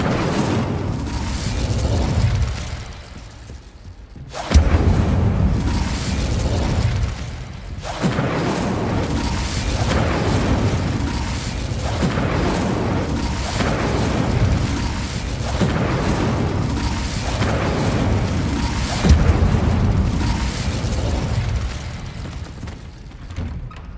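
Incendio fire spell blasts from Hogwarts Legacy: dense, roaring booms and crackling bursts repeat every few seconds over a continuous loud rumble of game effects, with no voices.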